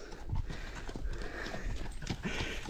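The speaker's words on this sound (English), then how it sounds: "An unexpected visit from two beautiful horses, isn't it?" Two horses visiting a house make soft hoof clip-clops, with a possible brief whinny, fairly quiet against outdoor background noise.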